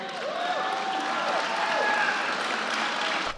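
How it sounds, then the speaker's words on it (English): A crowd at a rally claps in a sustained, even burst, with loud applause filling the whole stretch and a few faint voices mixed in. "doesn't the clapping just sound disingenuine?"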